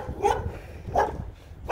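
A dog barks in short, irregular bursts at close range, three yelps spaced across a couple of seconds with quiet gaps between them and no talk over them.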